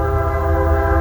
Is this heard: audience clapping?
no